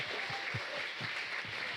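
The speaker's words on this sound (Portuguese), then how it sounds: "Pode aplaudir o Senhor" A church congregation applauding during a service, a brief, dense wash of clapping from many hands, fairly soft and steady throughout.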